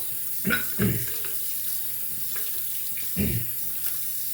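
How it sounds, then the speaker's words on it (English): A straight razor, a French frameback Pradat Brun, is rinsed under a running tap during honing, with water splashing in a few short bursts over a steady background hiss. "just gonna rinse off the sword"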